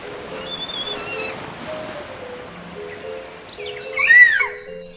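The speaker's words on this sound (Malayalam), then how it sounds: "ഈ പക്ഷിയെ കടൽ കാക്ക എന്ന് വിളിക്കുന്നു." A seagull by the sea gives a shrill, wavering cry near the end, heard over steady wind and surf, with faint high chirps earlier on.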